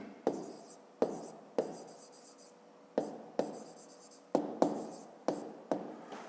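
Pen or pencil writing in a school exercise book during a fifth-grade maths lesson, with repeated short strokes and taps close to the microphone, alone with no talk.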